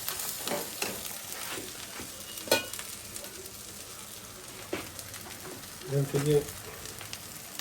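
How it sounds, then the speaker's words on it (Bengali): Beef frying with spices in a pot gives a faint, continuous sizzle broken by occasional stirring clanks, with a few spoken words in between. "এখন আমি এখানে মাংস দিয়ে দিচ্ছি।"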